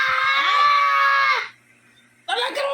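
A child lets out a long, loud, high-pitched scream, cuts off abruptly into near silence, then starts screaming again moments later, close and piercing.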